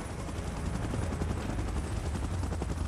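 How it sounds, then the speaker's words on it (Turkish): Helicopter in a video game, a steady rotor thrum and engine roar heard at moderate distance, continuous and even with faint rapid chopping. "Helikopter geliyor aynen."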